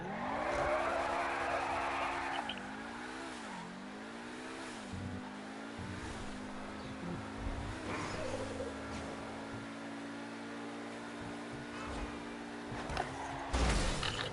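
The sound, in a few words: souped up Lamborghini car driving in video game GTA 5 Online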